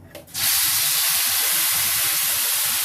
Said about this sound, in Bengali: এই তেলের মধ্যে এই যে মশলাটা আছে যেটা আমরা ব্লেন্ডারে ব্লেন্ড করেছিলাম সেটা ফার্স্টে ছেড়ে দিব।